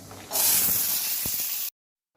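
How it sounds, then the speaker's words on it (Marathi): Shelled beans, peas, chickpeas and pigeon peas dropped into a little hot oil in a kadai give a sudden loud hiss that holds steady for over a second and then cuts off. "ह्या सर्व भाज्या आपण कढईत भाजून घेणार आहोत"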